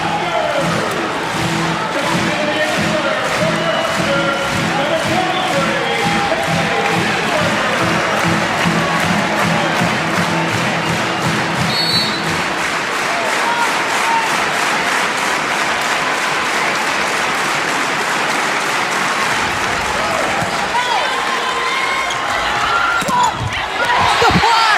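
An arena crowd at an NCAA women's volleyball championship match between Nebraska and Penn State cheers and applauds loudly and continuously, with rhythmic clapping and thumps early on and a commentator's voice faintly beneath the roar.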